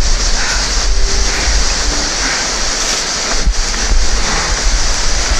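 A river rushes steadily past on a jungle river walk in eastern Sulawesi, a loud continuous broadband roar of flowing water close by, with no one speaking.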